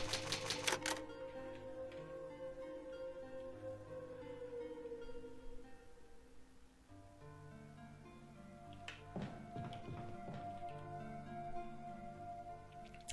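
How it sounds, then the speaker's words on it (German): A typewriter in Resident Evil HD Remaster saves the game, giving bursts of rapid mechanical key clacks alongside a soft musical backdrop, moderately quiet and with no voices. "Eine alte Schreibmaschine, ja, das Farbband verwenden."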